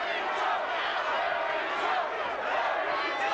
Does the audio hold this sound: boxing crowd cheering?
yes